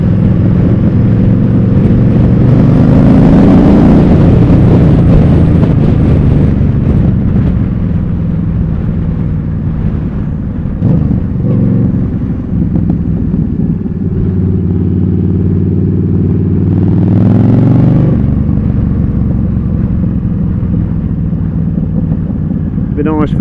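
Small motorcycle riding along a coastal road between Mablethorpe and Skegness, a loud, steady engine drone with wind rush that rises and falls in pitch as the rider shifts through corners, heard close from the bike.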